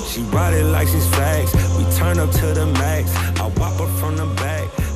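A hip-hop track plays loud and full, with a heavy sustained bass line, punchy drum hits and layered vocals running continuously throughout.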